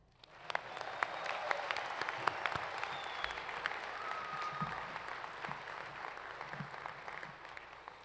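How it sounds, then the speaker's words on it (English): Commencement audience at Harrisburg University breaking into sustained, dense applause from a large crowd, steady and fairly loud across the whole stretch after a brief quieter start. "You can clap now."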